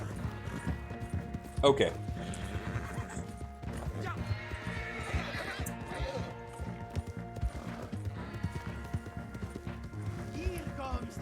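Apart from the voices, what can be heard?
horse hooves and neighing in Red Dead Online video game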